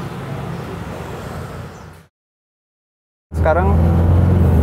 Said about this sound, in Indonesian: gua bawa jalani mobil, mau ngetes apakah bunyi gemuruh dari belakang ini sudah hilang